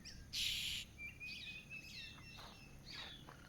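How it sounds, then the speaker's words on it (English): Several birds chirp and tweet at a distance, scattered calls over a steady outdoor background, one brief brighter burst near the start. "Lots of birds."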